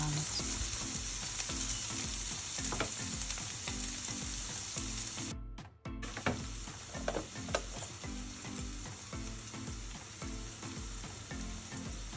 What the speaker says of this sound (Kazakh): Ең алдымен қызып тұрған майымызға орташа пиязды ұсақтап кесіп қуырып аламыз.